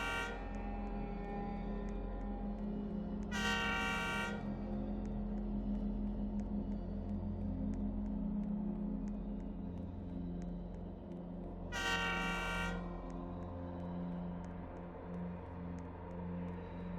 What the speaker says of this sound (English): trick the train into going by without hitting you